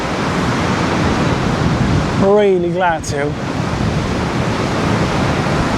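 Large waves crashing and surging continuously in extreme wind at Benidorm, a dense steady roar with wind buffeting the microphone, and a brief spoken phrase in the middle.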